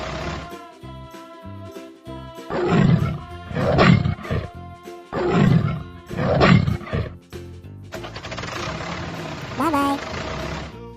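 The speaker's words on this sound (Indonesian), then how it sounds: "Tiger." An animated tiger gives several loud, rumbling roars in bursts, with a different mechanical hum or rumble taking over near the end.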